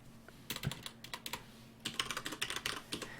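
Someone types on a computer keyboard, producing quiet, quick clusters of key clicks in an irregular rhythm with a short pause midway and no talking.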